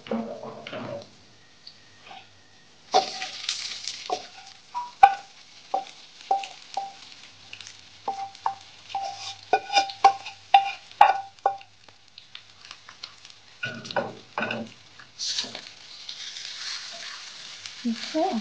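Beef for Mughlai beef fry tipped into a hot pan, a burst of sizzling followed by scraping and clinking from stirring, then the frying swells again near the end, close and fairly loud with quiet gaps.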